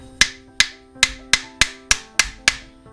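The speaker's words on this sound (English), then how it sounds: "And then just hammer it in." Eight evenly spaced metal-on-metal hammer strikes ring out close and loud as a free spin kit part is driven into a Dana 30 front axle on a 1990 Jeep Wrangler YJ.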